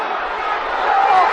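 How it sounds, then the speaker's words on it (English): Rugby league crowd at a Featherstone Rovers versus Salford match shouting for offside, a dense roar of many voices that swells louder toward the end. "Crowd shouting for offside."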